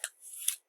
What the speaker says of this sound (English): So now all I have to do is just come down and tape this over